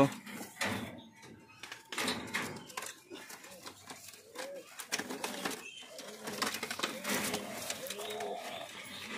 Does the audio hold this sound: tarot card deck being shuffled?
no